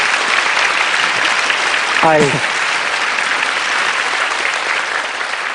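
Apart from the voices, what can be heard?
audience applause welcoming the grandmother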